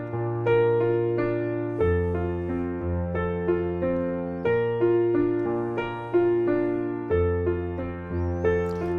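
Solo piano plays a flowing arpeggio pattern from the fourth chorus of a song, with repeating broken-chord figures over sustained low notes, steady and close, with no talking.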